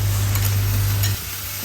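Dry potato and cauliflower curry, seasoned with salt, turmeric and chili powder, fries in a pan with a loud, dense sizzle under a low steady hum that cuts off partway, leaving the softer frying sound.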